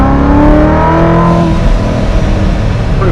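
A Chevy car engine revs and accelerates in second gear, a loud, close roar with harmonics rising steadily before settling into a dense, rough drone.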